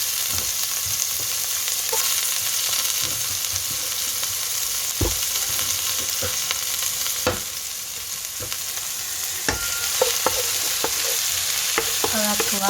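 Sliced onions and green chillies sauté in hot oil with fennel seeds, giving a steady bright sizzle broken by frequent scraping and clicking stirs of a spoon against the pan. There is no talking.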